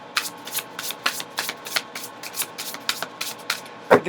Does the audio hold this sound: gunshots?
no